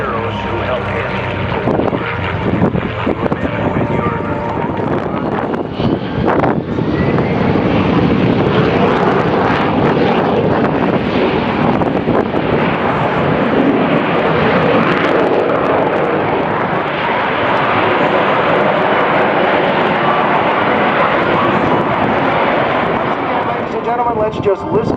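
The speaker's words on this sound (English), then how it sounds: "Let's just listen to the music these engines make." Radial propeller engines of the B-29 Superfortress Fifi droning loudly at an airshow, a continuous rumbling roar lasting throughout with steady intensity and no break.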